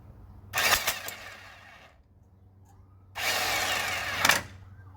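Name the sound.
power tool tightening on a 1951 Chevy steering box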